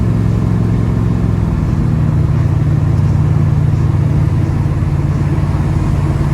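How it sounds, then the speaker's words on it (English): A 1972 Chevrolet Nova big block with a Turbo 400 transmission and 3,000 stall converter rumbles steadily up close, a loud, sustained low engine note that holds throughout without clear rises or drops. "It's quiet, but when you hit the throttle, it wakes up."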